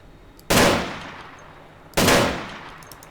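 Two loud, sharp gunshots from a modded weapon in the video game DayZ, each a booming crack with a long fading tail, spaced about a second and a half apart.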